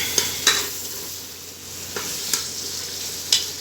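Masala being roasted in a pan for Lahori chana, a low hiss punctuated by several sharp spoon taps and scrapes against the pan at irregular intervals, no one speaking.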